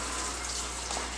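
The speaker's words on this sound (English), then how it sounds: "Run the water till it's lukewarm." Tap water running steadily in a kitchen sink while being warmed to lukewarm for making sourdough rye bread, a continuous soft gushing hiss heard alone.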